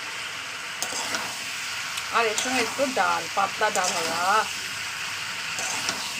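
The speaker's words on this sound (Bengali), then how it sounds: "জোরে দিয়ে ভালো করে একটু ভাজা করে নেবো পটল আলু ঢেঁড়স একসঙ্গে ভাজা খেতে অসাধারণ লাগে" Pointed gourd, potato and okra fry together in a little oil over a high gas flame, giving a steady, close sizzle throughout while someone talks over it.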